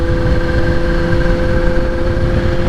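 The engine of a 2021 Kawasaki Z H2 motorcycle runs steadily on a dyno, a loud, close, even drone with a constant whine and no talking.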